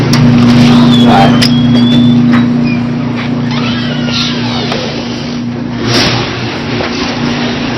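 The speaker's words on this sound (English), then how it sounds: "you should go warm up the engine" A car engine warming up, idling with a steady low hum and light revving, loud and continuous from start to finish.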